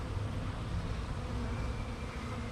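Honeybees buzz around an active hive as a continuous low hum. The drone stays steady and moderately close throughout, with no talk.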